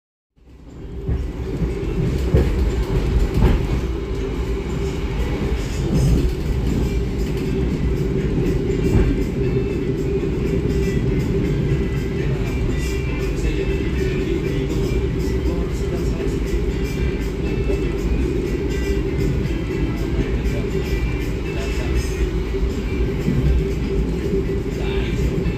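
Jayakarta Premium passenger train running on rails between Surabaya and Yogyakarta, giving a steady, loud, continuous rumble and roar of the carriage that holds unbroken for the whole stretch.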